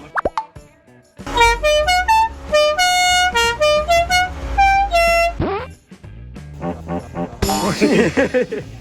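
A vehicle horn is tested at the Siang Kong Bang Na parts market, sounding several loud honks of differing pitch and length in quick succession, separated by clicks and short pauses, with some nearby noise at the end.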